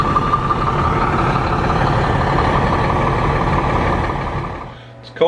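A grain hauling truck's engine rumbles steadily at close range with a low, continuous drone, easing off near the end before a brief clatter.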